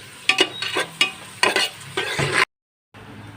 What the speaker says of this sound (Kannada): ನೋಡಿ ಇದನ್ನು ಸ್ವಲ್ಪ ಫ್ರೈ ಮಾಡ್ಕೊಳ್ತೇನೆ